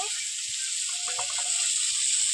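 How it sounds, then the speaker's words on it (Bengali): Neem leaves and eggplant fry in a pan with a steady bright sizzle, joined by a few soft stirring scrapes and taps, close and continuous. "এইবার এইভাবে নেড়ে ছেড়ে নিম বেগুনটাকে ভেজে নিতে হবে"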